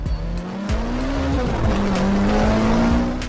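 A car speeding off with tires squealing loudly and continuously, the screech wavering over a roaring engine close by, with no talk.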